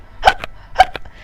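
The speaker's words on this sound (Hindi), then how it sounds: "बच्चा बहुत बार हिचकी लेने लगता है और लेते ही रहता है." A young baby of up to three months hiccuping, two short, sharp hiccups about half a second apart, close and clear with no talking.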